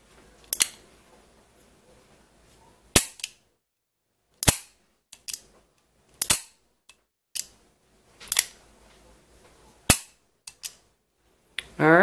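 A Kimber K6S revolver is dry fired repeatedly, each trigger pull giving a sharp, close metallic snap, spaced irregularly about a second or two apart with silence between.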